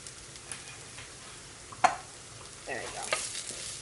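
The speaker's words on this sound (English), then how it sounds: "Dry roast them just a bit to take out the raw taste in the powders" Onions with dry turmeric, coriander and chili powder sizzle softly in a pan, a quiet frying hiss broken by a sharp clink of a utensil and a brief swell of stirring near the end.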